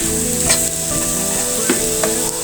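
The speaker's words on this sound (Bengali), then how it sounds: "এবার আমি বেটে রাখা কলা আর মরিচটা ভেজে নিব রসুন পেঁয়াজের সাথে" Mashed banana and chili frying with garlic and onion in a pan, a steady close sizzle with occasional stirring scrapes, no voices.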